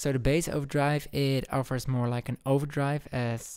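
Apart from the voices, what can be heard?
No everyday noises stand out.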